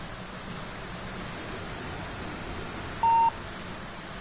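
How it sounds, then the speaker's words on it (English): In Train Sim World 2, a train alarm gives a single short, clear beep near the end, set against the constant rushing rumble of the train. "I think I just set the alarm off."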